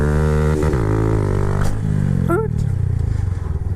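A Honda Grom motorcycle engine revs hard during a sit-down wheelie and is shifted into second near maximum RPM: a loud, close, high whine with falling pitch steps at the shifts, then a rougher, pulsing engine note.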